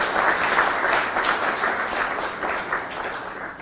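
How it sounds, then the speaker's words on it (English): Dense, sustained applause from a large audience at a memorial service for Kenyan President Mwai Kibaki, steady and loud throughout with no voices standing out. "I think you clap for him again."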